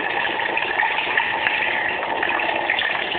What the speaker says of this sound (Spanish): Le vamos a dejar caer agua adentro